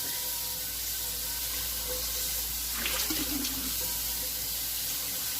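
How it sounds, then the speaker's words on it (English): Tap water runs steadily into a cooking pot at close range, a constant hiss with a brief splashy change in the middle. "Put some water in it."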